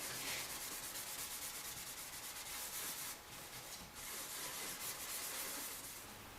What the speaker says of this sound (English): I'm going to take my steel wool and go over that